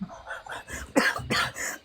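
A person coughs close by, with two or three short, harsh bursts following quieter breathy sounds.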